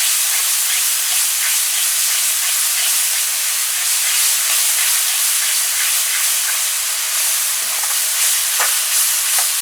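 Curry paste and onions fry in a pot with a steady, loud sizzle and hiss, broken now and then by faint stirring scrapes, with no talking throughout.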